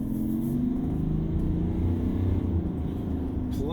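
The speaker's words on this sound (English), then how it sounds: "Let's see what this thing has for get up and go in a diesel." A diesel vehicle drives and accelerates from inside the cabin, giving a steady, low engine rumble with road noise that holds at a moderate level throughout.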